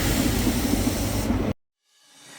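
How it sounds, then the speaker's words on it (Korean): A train runs from Hallstatt station toward Linz in Austria, giving a loud, steady rumble and hiss. It cuts off abruptly to near silence partway through. "할슈타트역에서 기차를 타고 린츠라는 도시로 가면서 오늘 일정을 마칩니다."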